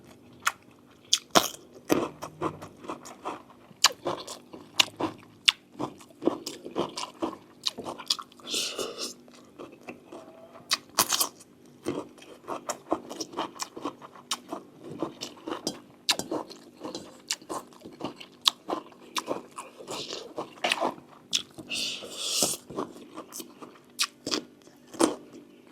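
Close-up eating of spicy river prawn curry: steady soft chewing, biting and crunchy squishes repeat irregularly for the whole stretch, quiet and near, with occasional faint breaths or murmurs.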